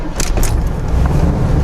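A 1979 Chevrolet Camaro engine catches and settles into a low, steady rumble, heard close up inside the car with a couple of brief light clicks or jingles at the start.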